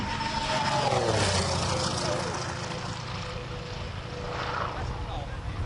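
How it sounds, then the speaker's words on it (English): A fast airplane roars past at an air show, a broad steady rush of engine and wind noise that swells and fades slightly over a few seconds. "Wow, that's a fast airplane."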